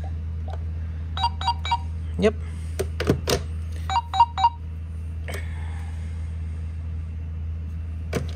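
A hotel room telephone at the LINQ Hotel & Casino in Las Vegas sounds clear keypad dialing tones in quick groups of short beeps, close up, with a voice briefly speaking.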